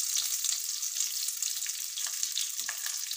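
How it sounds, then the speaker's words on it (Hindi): Onions fry in a pan with cumin and mustard seeds, giving a soft, steady crackling sizzle with faint scattered pops throughout. "प्याजों को फ्राई करते हैं पहले।"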